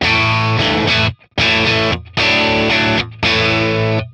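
Electric guitar on the middle pickup plays through a 1963 Fender Brown Deluxe amp model with reverb off, loud distorted chords ringing in sustained bursts separated by brief silences.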